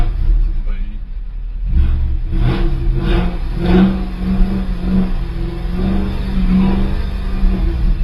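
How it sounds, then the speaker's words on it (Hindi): A car engine revs in several bursts, rising and falling with a deep rumble and a sustained droning tone in the second half, heard close and loud; a voice is briefly audible in the background. "इंजन साउंड, ये होता है लेवल"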